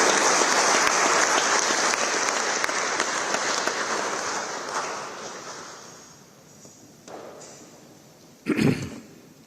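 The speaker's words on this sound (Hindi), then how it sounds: "आइए जोरदार तालियों से स्वागत करें" An audience breaks into loud applause welcoming a decorated 1965 Indo-Pak war veteran at a formal defence ministry event; the clapping is dense at first, thins and fades, then a brief burst of noise sounds near the end.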